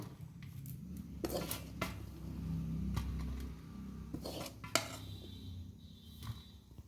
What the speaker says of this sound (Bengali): কড়াইয়ের থেকে পুরোটা থালার মধ্যে ঢেলে নিয়েছি